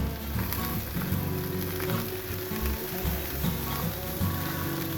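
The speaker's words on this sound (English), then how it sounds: "Put some butter down and toast our buns." Butter and burger buns toast on a Blackstone flat-top griddle, giving off a steady, dense, close sizzle that holds evenly throughout with no talking.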